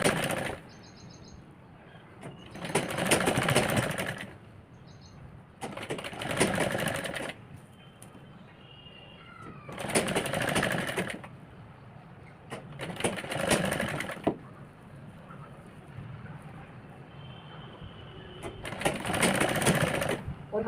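A sewing machine stitches a crop top for a 12-year-old girl in several separate bursts of rapid whirring, each a second or two long, with quiet pauses between them. The sound is close and steady.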